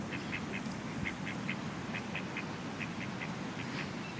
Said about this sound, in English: That poor duck, she keeps going after the same one.